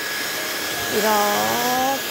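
An ordinary hair dryer blows in a steady, loud whoosh while hair is styled for volume, running throughout as a voice speaks briefly over the airflow.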